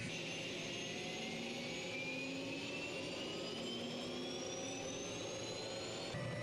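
Simulated MD 530F helicopter turbine winds up to ground idle in Microsoft Flight Simulator, a steady loud whine with tones slowly rising in pitch over a constant rushing roar.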